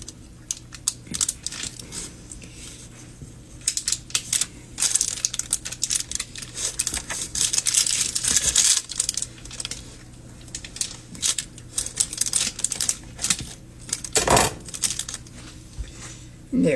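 Knife cutting through a thick slab of homemade fudge, giving soft scattered taps and clicks with a denser crunchy stretch in the middle and a sharp knock near the end, all fairly close and fairly quiet.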